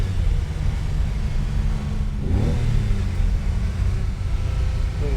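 A 1967 Ferrari 330 GT 2+2 Series II accelerates in second gear around 3,000 RPM, its engine a loud, steady, close roar that climbs smoothly in pitch with no talk over it.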